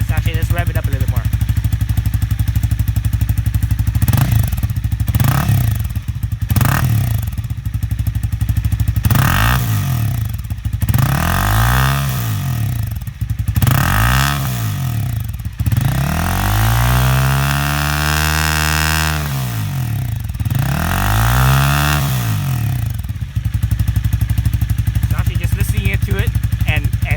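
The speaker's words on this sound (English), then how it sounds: "Let's rev it up a little bit more." Honda CB300R motorcycle fitted with an Akrapovic exhaust insert, revved repeatedly in loud close blips that rise and fall, several climbing higher, with the engine idling steadily between revs.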